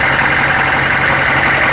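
A truck engine idles close by, a loud continuous rumble with a steady hum and no pauses.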